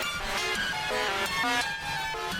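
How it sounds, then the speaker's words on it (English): Paper rustling passed through a flanger with near-full feedback, a 7 ms delay and a random-shaped quarter-note modulation, producing ringing, shifting metallic tones that dominate the faint rustle underneath for a couple of seconds. "So what I did was add a flanger here with a random shape"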